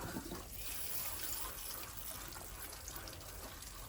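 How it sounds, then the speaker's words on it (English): Water lightly sprinkled over seed starting mix in planting trays gives a steady soft trickling hiss throughout, close and fairly quiet, with no talking. "And I'm just like very lightly sprinkling."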